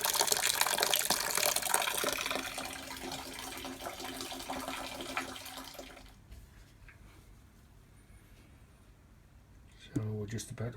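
Wort runs off from the mash during vorlauf at a small brewery, a dense splashing, gushing flow of liquid that thins out abruptly partway through, leaving quieter trickles before a short burst of clatter near the end.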